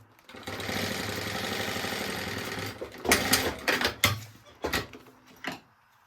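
A sewing machine runs a steady, fast stitching whir for a few seconds as it sews a 1 cm seam on fabric for a baby organizer, then stops, followed by a few sharp clicks and handling knocks.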